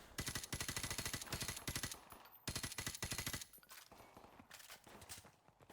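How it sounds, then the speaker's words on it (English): Rapid automatic gunfire bursts from Call of Duty 4: Modern Warfare Remastered, loud and close, rattling in two dense volleys with a short gap between them, then thinning into scattered shots; no talking. "Let the bullets start flying, okay?"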